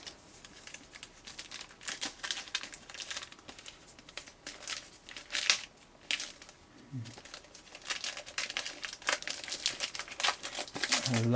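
Plastic packaging crinkles and rustles in bursts while a Lenovo Chromebook Duet keyboard dock is unboxed; close, irregular crackling with brief sharper crumples and no talk.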